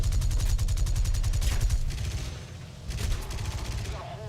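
Aircraft machine guns firing in War Thunder around a Ki-49-IIb Donryu Japanese medium bomber, rapid sustained bursts of gunfire that pause briefly and then resume over engine noise.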